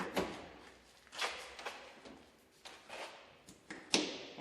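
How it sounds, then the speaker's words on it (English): Doors on a Redline Deluxe sandblasting cabinet swing shut, giving several separate knocks and thumps spread over a few seconds, with a sharper clack near the end. "let's close our doors"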